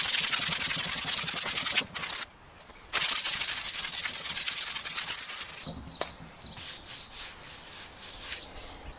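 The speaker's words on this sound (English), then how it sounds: "let's see what some sanding does" Harsh, rasping sanding strokes scrub filler on a 1968 camper continuously with a brief pause, then give way to lighter rhythmic rubbing while faint chirps sound in the background.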